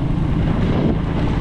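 Wind blows hard over a rice field in the mountains, a loud, steady buffeting rush close on the microphone.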